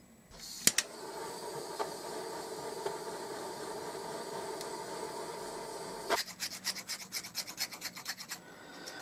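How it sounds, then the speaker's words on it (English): A hand file rasps against a folded silver coin ring made from a 1972 Munich Olympic coin, first in a steady scraping run, then in a rhythmic series of short, close strokes. "I'm just going to gently file down both sides"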